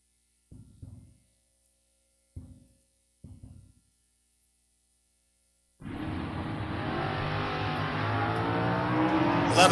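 Drag race cars at launch, a Chevelle against a Nova on a Maryland dragstrip: after a few short bursts, a loud, sustained roar of engines sets in and keeps building to the end.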